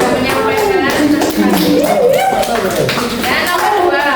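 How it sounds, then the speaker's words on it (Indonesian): Middle-school students clapping in a science classroom, a short burst of applause mixed with voices talking over it. "Tepuk tangan untuk Dinda sudah menyampaikan."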